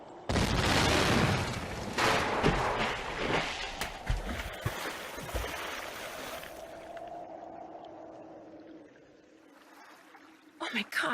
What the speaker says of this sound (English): whoever threw that ice ball at me must have set off an explosion that shattered the ice